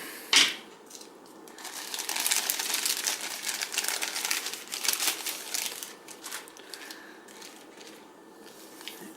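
A plastic bag containing a high-capacity battery is cut and torn open up close, with a sharp initial snip followed by several seconds of continuous crinkling and rustling plastic that tapers off.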